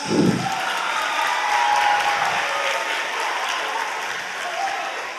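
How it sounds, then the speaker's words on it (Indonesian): Audience applause for Mbah Ahmad, an elderly witness of the 10 November battle of Surabaya, at a Heroes' Day school event at SMK Krian; a steady wash of clapping that fades slightly toward the end. "Tepuk tangan untuk Mbah Ahmad"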